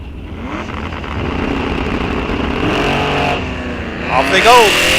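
Drag race cars launching at an NHRA raceway during the Wisconsin State Championships at Rock Falls Raceway, engines roaring from a distance and rising as they pull away, with an announcer talking over the noise.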